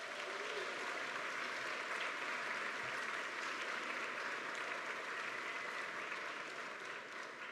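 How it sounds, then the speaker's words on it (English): Steady, sustained applause from the crowd at a cancer survivorship celebration for transplant patients, a broad even wash of many hands clapping that carries on without a break, heard from within the room. "we want you all to give yourself a round of applause for being here"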